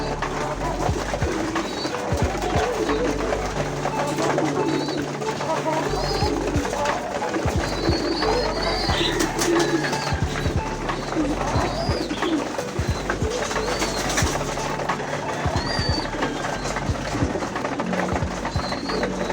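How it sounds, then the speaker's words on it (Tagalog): Pet racing pigeons coo and flutter in an open loft in the Philippines, a dense, continuous chorus of throaty coos and chirps close by, with scattered wing flaps and clatter and a voice talking over them. "gutom na gutom ang aking mga alagang kalapati"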